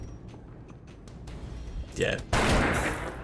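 A pistol shot in Darkest Dungeon: a sharp crack near two seconds followed by a louder, sustained blast and ringing decay, with someone talking underneath.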